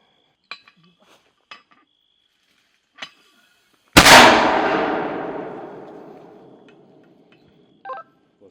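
A single powerful boom from a mortar firing, close and sharp, decaying over several seconds, with a few faint clicks and brief noises before and after.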